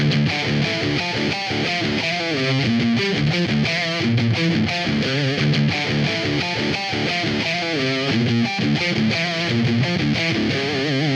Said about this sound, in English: We're gonna find some good ones to demonstrate our drop D riffs